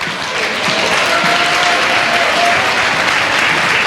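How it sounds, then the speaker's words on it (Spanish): A seminar audience claps for the volunteers, an even burst of applause from a room of people, steady and close with faint voices beneath. "Un aplauso a los voluntarios"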